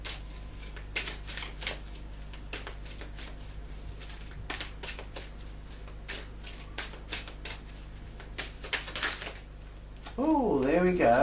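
Animal medicine cards are shuffled close up in quick, crisp riffling bursts over several seconds, with a voice speaking briefly at the end.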